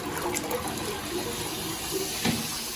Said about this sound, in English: There's a universal rental toilet with a public restroom flush valve